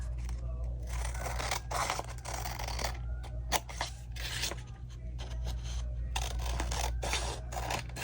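Scissors snip through a sheet of paper while making a small triple-fold pocket for papercraft, giving repeated close crisp cuts and rasping scrapes over a steady low hum.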